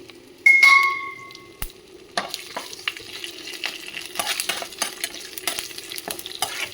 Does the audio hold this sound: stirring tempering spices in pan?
yes